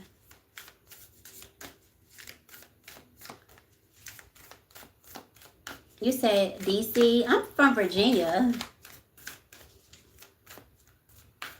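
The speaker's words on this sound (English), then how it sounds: "I feel like I shuffled these enough." A deck of cards is shuffled close up in repeated crisp riffles and slaps through the whole stretch, and a person speaks briefly over the middle.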